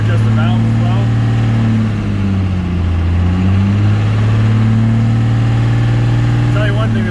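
A heavy Cummins 188/220 diesel engine idles during flat tappet cam break-in with a deep, loud, throbbing exhaust rumble, steady and close, its pitch dipping slightly midway.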